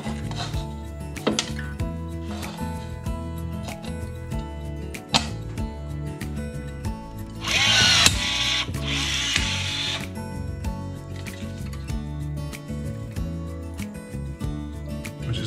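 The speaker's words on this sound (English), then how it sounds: "And now we'll give the M12 a try." A Milwaukee M12 cordless riveter sets pop rivets with short whirring motor bursts and sharp mechanical snaps, spaced irregularly at close range, with one longer louder burst midway.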